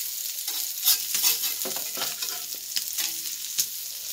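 Sardine fish roasting in a little oil on a tawa, giving a steady close sizzle and crackle, with occasional scraping and stirring sounds from a spatula.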